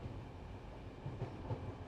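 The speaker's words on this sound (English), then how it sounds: "The sound of the wheels settles into a rhythm." Train wheels on a mountain train ride give a low, steady rumble with faint periodic clicks from the rails, heard from inside the carriage at moderate, even loudness.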